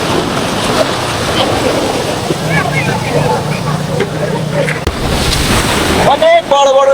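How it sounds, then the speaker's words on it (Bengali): Big sea waves crash onto the beach at Cox's Bazar as a steady, loud wash of surf with heavy wind buffeting the microphone, and a brief rise in sound near the end. "অসংখ্য ঢেউ তীরে আছড়ে পড়ছে"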